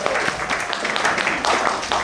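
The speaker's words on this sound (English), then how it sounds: "Whoa, give him a clap." Students in a university lecture hall give a brief round of clapping, a scattered patter of hands from across the room that rises and dips over two seconds, with some voices mixed in.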